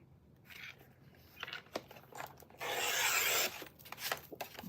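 Paper is cut to size for a handmade mini book, with close scraping and rasping strokes that end in a longer, louder continuous cut.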